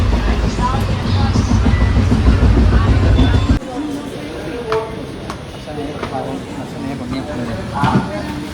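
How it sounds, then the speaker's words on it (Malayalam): A passenger train rolls along with a steady, loud rumble and rattle of the carriages, then quietens to a softer, clattering ride with faint murmuring from people on board. "അങ്ങനെ നമ്മളിപ്പോൾ ട്രെയിൻ ഇറങ്ങാൻ പോവുകയാണ്."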